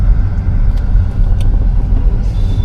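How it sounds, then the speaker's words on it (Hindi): A car engine rumbling steadily and close while the car drives into the parking at Gurudwara Bangla Sahib in Delhi, with a few faint high clinks over the low drone. "और हम लगा रहे हैं अब गाड़ी अंदर"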